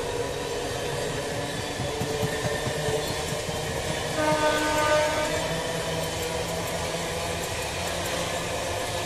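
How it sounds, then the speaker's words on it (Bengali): Train 31917 Up Sealdah–Gede local leaving Naihati station toward Halisahar on the Kolkata suburban line, a loud, close, continuous rumble of rolling wagons with a sustained horn blast partway through. "31917 up Sealdah Gede local Naihati rail station ছেড়ে হালিশহরের দিকে আসছে।"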